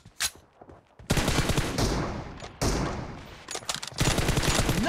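Rapid automatic gunfire from the battle-royale game PUBG, played on a Poco M2 Pro phone, rattles in dense sustained bursts after a quieter opening, with brief pauses between long volleys.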